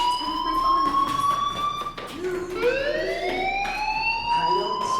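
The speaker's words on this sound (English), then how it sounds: "Hey, do you hear that fire alarm?" A school fire alarm in the video game Life is Strange rings as a steady, loud electronic tone that dips and bends upward partway through, with faint voices underneath.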